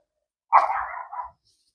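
A single dog's bark, drawn out into a brief yelping burst, sounds close by and fairly loud, then silence follows, heard in the setting of a backyard perennial herb garden.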